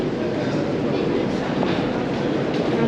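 A Moscow metro train runs past a station platform, a steady, loud roar and rumble of the underground carriages that fills the whole stretch, with no clear talk over it.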